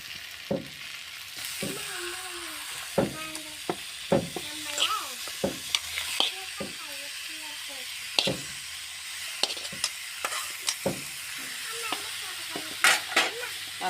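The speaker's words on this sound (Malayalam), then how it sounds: "നന്നായി ഇളക്കി കൊടുക്കാം" Chicken coated with turmeric and salt frying in a pan for chicken peratt, with a steady low sizzle under sharp clinks and scrapes of a spoon stirring. Faint voice murmurs can be heard in the background.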